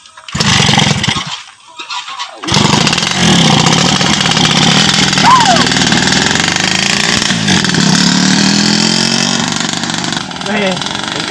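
A motorcycle engine runs steadily as a rider pulls away in a Bugis village comedy, a continuous rough mid-pitched drone with people talking over it throughout.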